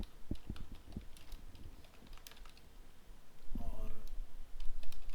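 Quick, irregular clicking of a computer keyboard as JavaScript code is typed, with bursts of keystrokes under someone talking.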